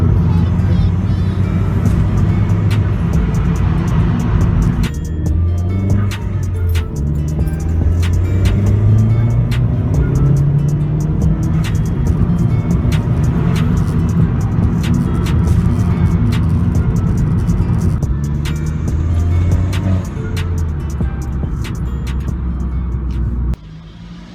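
Steady roar of traffic with engines rumbling and a car pulling over, loud and continuous, with faint voices underneath.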